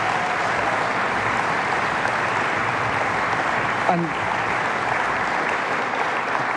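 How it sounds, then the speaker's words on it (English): Sustained applause from a conference audience at the closing session of DjangoCon Europe 2023, a dense, steady roar of clapping across the whole stretch, with a brief spoken word near the start. "Can we have a massive round of applause for all of our speakers and contributors?"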